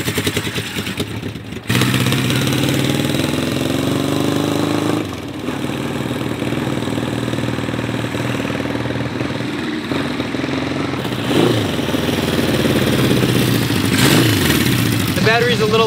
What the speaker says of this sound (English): Overall, the bike runs really good and that makes me very happy.